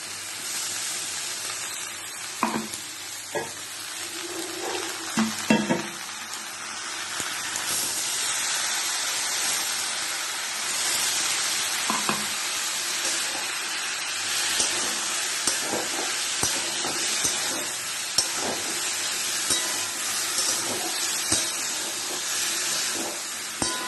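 Ground spice paste fries in a pan with a broad, steady, close sizzling hiss that runs throughout, with a few scattered knocks and clatters near the start.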